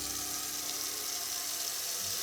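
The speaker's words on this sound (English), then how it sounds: "I'm gonna fill it with warm water." Warm water pouring steadily into a canning pot for water bath canning, a continuous hissing, splashing stream heard up close with no talking over it.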